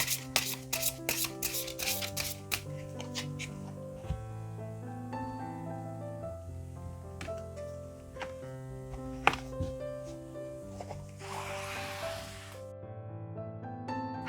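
Tarot cards are shuffled by hand in quick riffling bursts at the start and a longer shuffle later, over soft, steady background music.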